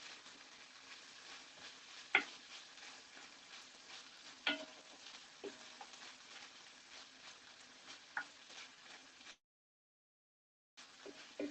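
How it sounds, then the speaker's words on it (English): Brazilian paste and coconut milk get stirred into a simmering Moqueca de Peixe fish stew, a soft steady sizzle with a few sharp clinks of a utensil against the pan, briefly cutting to silence before the sizzling resumes. "we're going to stir in the Brazilian paste and some coconut milk"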